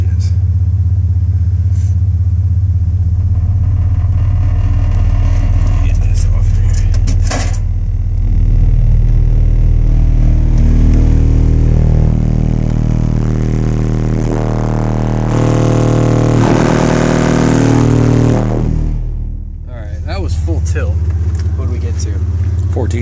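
A car engine idles at a low steady rumble near 600 RPM, then is eased up to a fuller, louder drone before dropping back, with a voice talking over it.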